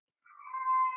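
A single long meow from a house cat, starting softly and swelling to a steady, loud, close tone, with no talk over it.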